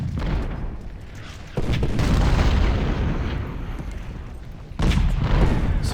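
Heavy artillery cannon fire in the Civil War strategy game Ultimate General: Civil War, a sustained barrage of deep booms with loud fresh volleys striking partway through and again near the end.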